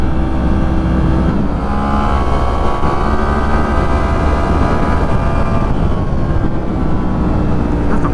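A Yamaha MT-10 motorcycle fitted with a comfort seat and carbon parts is ridden through corners on a partly wet road, its loud, steady engine roar mixed with heavy wind rush throughout.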